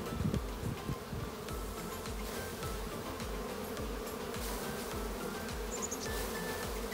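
Steady, dense buzzing of many honeybees close by at an open hive being split in early May in Quebec, a continuous droning hum with small shifts in pitch, no voices.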